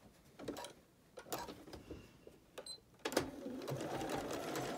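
A sewing machine stitches a fabric mask in short, start-stop bursts, then runs steadily through the last stretch, close and moderately loud with no talking.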